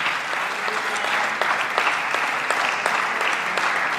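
A church congregation applauding during a Spanish-language sermon, a steady dense wash of clapping hands that swells slightly midway and carries on throughout, with a faint voice underneath.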